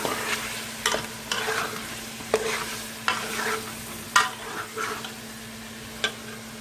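Nihari with coriander is stirred in a pan, with a steady sizzle underneath and a spoon scraping and knocking against the metal at irregular intervals, close and clear.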